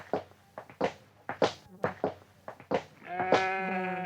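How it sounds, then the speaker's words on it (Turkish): Several short, loud sheep bleats in a row, close by, ending in a longer sustained bleat, with a faint thump or two underneath. "Hangi akıllılar bunlar apartmanın içine koyun besliyorlar?"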